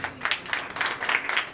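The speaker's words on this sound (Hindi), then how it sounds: "जोरदार ताली" A church congregation breaks into a short, lively burst of hand clapping, with dense overlapping claps that rise and fall in quick waves.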